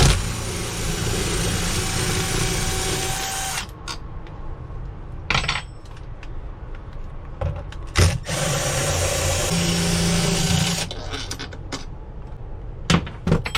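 A power tool runs in long, loud bursts while backing out the long 5/16 bolts holding a Coleman rooftop air conditioner, with short clicks and knocks between runs.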